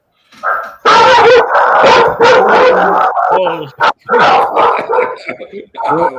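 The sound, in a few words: dog barking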